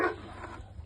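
Dogs barking at a shelter during winter evening feeding time, a brief burst of barking and yelping from several dogs, moderately loud and slightly distant.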